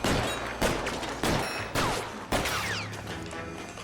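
Gunfire from L.A. Noire rings out in four loud, sharp shots spaced about half a second apart, each trailing a short echo with debris-like rattles behind.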